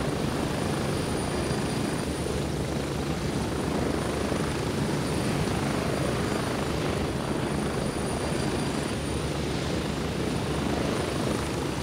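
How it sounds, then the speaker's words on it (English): A helicopter in the video game Gray Zone Warfare flies in, its steady rotor and engine drone holding level and fairly loud throughout with no speech over it. "you should hear my helicopter coming in"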